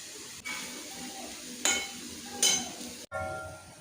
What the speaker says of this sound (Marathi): नंतर आपण उकळून घेतलेली उसळ टाकायची, छान असं परतवून घ्यायचं